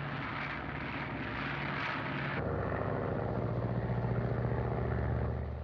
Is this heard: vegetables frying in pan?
no